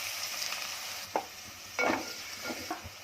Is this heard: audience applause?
no